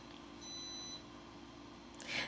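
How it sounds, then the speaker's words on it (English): Microwave oven beeping when the food is done, a single thin electronic tone held for about half a second, faint and indoors over low room hum. "That's the sound of my food being done in the microwave."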